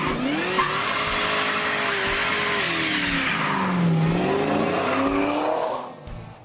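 A supercharged 6.2-litre LSA V8 in a 1968 Oldsmobile Cutlass accelerates hard, its loud engine note rising and falling through the gears alongside a brief tire squeal, before easing off near the end.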